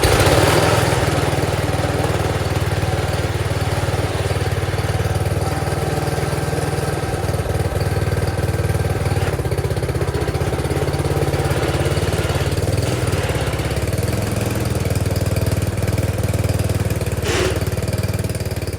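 Small Wheel Horse garden tractor engine running loud and steady for the whole stretch, a constant close chugging drone with a couple of faint clanks on top and no talking.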